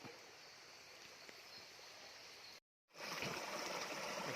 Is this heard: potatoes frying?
no